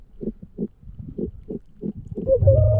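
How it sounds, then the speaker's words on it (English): Fish off Hawaii give a weird guttural noise underwater, a run of low grunting pulses in a steady rhythm, fairly close, followed by a louder droning rumble at the end. "By the way, this noise you hear is the fish."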